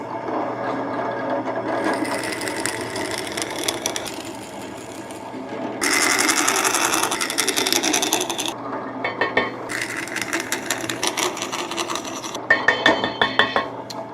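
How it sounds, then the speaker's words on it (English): Drill boring holes into a round of wood, bursts of grinding, rasping bit noise that start and stop several times over a low motor hum, close and fairly loud, with no talking. "Now take your round and drill as many holes as you can without it busting through."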